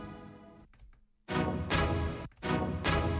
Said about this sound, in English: I went ahead and used some strings